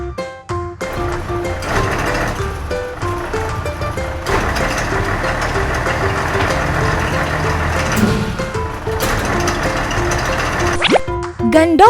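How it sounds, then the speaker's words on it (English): A garbage truck's engine churns and clatters at a steady, fairly loud level under playful musical tones, with a brief dip partway through and an abrupt end. "Garbage truck."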